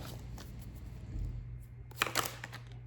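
A deck of tarot cards is shuffled close by, a soft riffling rustle that builds into a brief, sharper burst of card flicks near the end, with no voices present.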